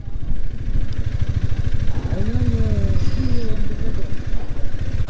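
A motorcycle engine rumbles steadily throughout, with a voice speaking briefly over the running motor.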